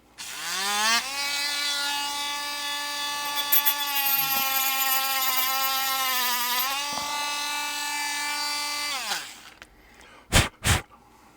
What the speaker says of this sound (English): We're going to take my Dremel tool with a little saw blade on it, and we're just going to cut that off.